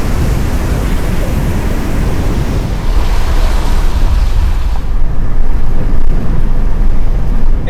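Heavy rain roars against a moving Subaru Loyale driven at full throttle up a slight incline, a constant dense hiss with low road and engine rumble underneath and no voices.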